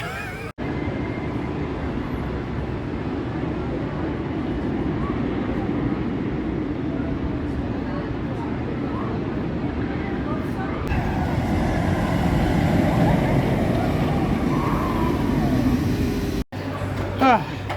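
Diamondback roller coaster ride at Kings Island, a steady loud rumble and roar of the train running along the track with wind noise, building in intensity partway through before a brief cut near the end.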